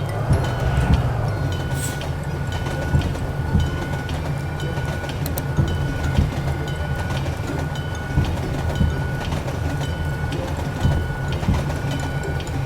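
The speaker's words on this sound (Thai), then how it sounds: "หลีกรถไฟก่อนดีกว่านะรถไฟชะอวดแน่นอน" In the Bus Simulator Ultimate video game, a passing train makes a steady rolling rumble with rhythmic clattering throughout, moderately loud and continuous, with no voices.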